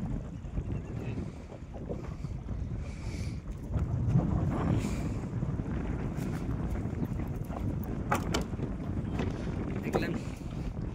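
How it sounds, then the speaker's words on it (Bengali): Strong wind blows steadily over a river in the Sundarbans, buffeting the microphone with a constant low rumble and rushing noise throughout. "আর নদীতে বাতাস হচ্ছে খুব"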